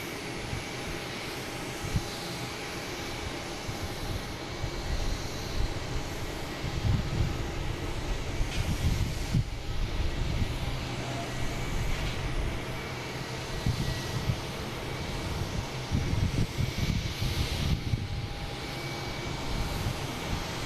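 A United Airlines Boeing 737 MAX 8 airliner at Boston Logan airport gives off a continuous, moderately distant jet engine roar, a dense, even wash of sound with slight swells throughout.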